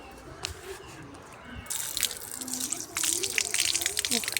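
Water is poured and splashed over a stone slab being washed, irregular gushing and dripping that grows louder and busier partway through.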